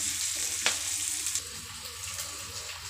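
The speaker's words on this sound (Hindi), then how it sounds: "इसको चलाते हैं और गैस का फ्लेम तेज ही रखते हैं। तेजी है, प्याज हमारा थोड़ा सॉफ्ट हो जाए" Onions frying and being stirred in a pan over a high gas flame, with a steady close sizzle and the occasional scrape of stirring, alone with no talk.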